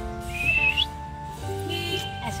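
A person whistles in the home, first a sustained high tone, then a short second tone after a brief gap, heard close and fairly clear over faint room background.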